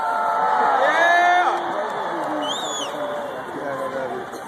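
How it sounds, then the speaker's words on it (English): Outdoor crowd at Groundhog Day at Gobbler's Knob cheering and whooping loudly, a dense babble of voices and calls that stays steady throughout with no clear talk on top. "A special round of applause for Thunder conductor"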